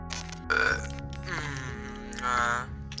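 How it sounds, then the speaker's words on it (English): A person lets out a long, deep, gurgling burp in drawn-out rough bursts over a few seconds, close and fairly quiet, during voice chat in a Call of Duty: Infinite Warfare session on Xbox One. "I burped"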